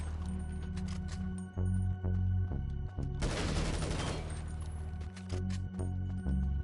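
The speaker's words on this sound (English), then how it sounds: "Judging from the gunshots, they have seen you." A sudden burst of rapid video game gunfire in GTA Online rattles for about a second amid a steady electronic hum and scattered clicks.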